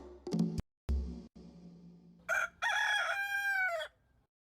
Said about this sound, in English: So this is Dude, our rooster, and you can learn all about him if you want